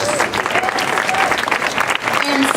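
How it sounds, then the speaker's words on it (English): An audience applauds at an arts journal gallery show honoring the jury, with loud, dense clapping from a crowd that holds steady throughout. "Everybody please give them a round of applause."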